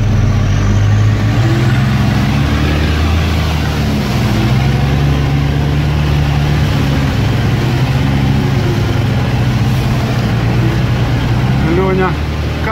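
An off-road car engine drones loudly and continuously at close range while the vehicle crawls over logs in rough terrain. The pitch wavers as the gear changes, and someone talks over it throughout.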